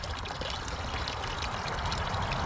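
Spring water pouring and trickling beside a road on the Appalachian Trail in Pennsylvania: a steady, soft, continuous splashing flow, fairly faint and unbroken, with no voices.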